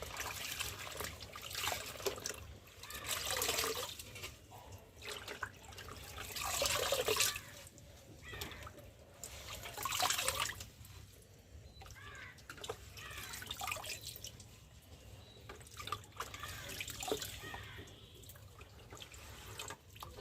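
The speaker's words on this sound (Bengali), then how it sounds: "শাক ধুয়ে চলে এলাম" Jute leaves (pat shak) are washed by hand in water for cooking. Uneven splashing and trickling come and go in soft surges over about twenty seconds, fairly quiet and with no talk.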